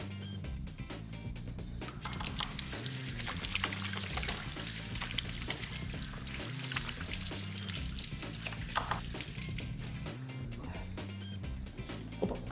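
Hands being washed under a running tap: a steady, continuous rush and splash of water that lasts throughout, with faint background sounds underneath.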